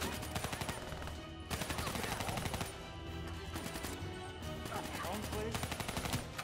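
Rapid automatic gunfire from the shooter game Call of Duty: Black Ops 3 rattles in dense, loud bursts with short gaps, almost continuous throughout.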